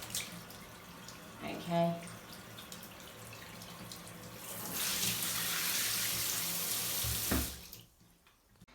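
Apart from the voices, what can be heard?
water running from a bathroom tap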